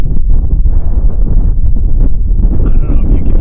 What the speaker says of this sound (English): it is getting really windy out there